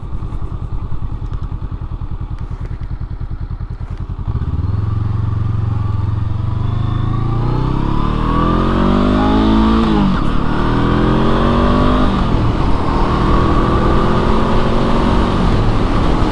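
A Honda SCL500 scrambler motorcycle idles, then its engine revs and climbs through gears with rising and falling pitch sweeps while riding, loud and steady throughout with no talking.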